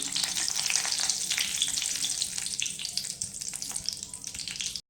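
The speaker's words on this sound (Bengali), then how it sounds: "ফোড়ন আর শুকনো লঙ্কা দিয়ে ফোড়ন দেবো।" Panch phoron and dried red chillies hit hot oil in a pan, a loud bright crackling sizzle that spits and pops steadily, easing slightly before cutting off abruptly.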